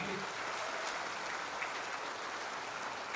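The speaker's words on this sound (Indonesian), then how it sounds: "Marilah berikan tepuk tangan kepada Menteri ATR BPN yang baru" Audience applause in a formal hall at an Indonesian ministerial handover ceremony welcoming the new ATR/BPN minister, a steady faint wash of clapping for the full few seconds.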